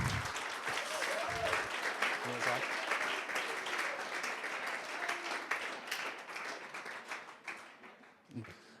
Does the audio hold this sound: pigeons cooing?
no